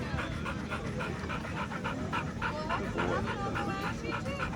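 Several dogs pant rapidly with scattered yips and short barks mixed in, a steady busy texture close by under occasional talk during a morning outing with pups.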